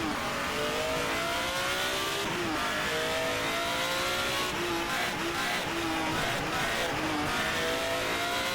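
Race car engine at full throttle in the GTR 2 racing game, loud and continuous with rising revs and gear shifts, occasional faint tire squeal, filling the whole stretch.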